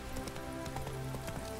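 Roach, a brown horse in The Witcher 3, gallops with a quick, steady clip-clop of hooves, moderately close and continuous with no talk.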